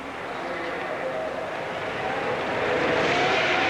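Formula 1 cars circle behind the safety car at the 2006 Australian Grand Prix, a steady, dense engine drone that swells slightly toward the end.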